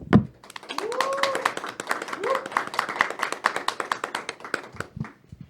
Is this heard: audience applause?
yes